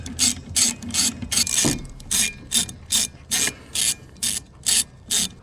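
A ratchet loosens the 14 mm nuts on a car's windshield wiper arms. Its rapid clicking comes in regular bursts, about a dozen strokes, close and clear with nothing else over it.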